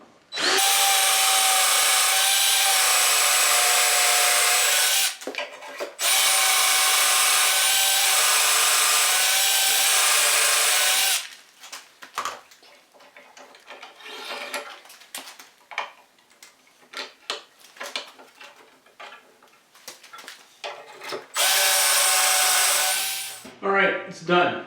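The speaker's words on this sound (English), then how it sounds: "time to start drilling holes" A drill bores dowel holes in wood through a DowelMax jig, with two long loud steady drilling bursts, then a stretch of clattering handling and rubbing noises, and another drilling burst near the end.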